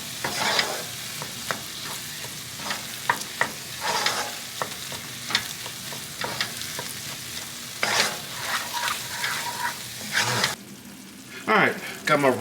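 Minced garlic, about eight cloves, stirred into a pot while cooking gumbo greens: scraping spoon strokes and a soft sizzle recur at an uneven pace, close and moderately loud, with no one speaking.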